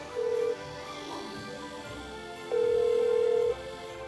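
An outgoing call on a telephone gives two steady ringback tones, a short one and then a longer one about a second long, over quiet background noise.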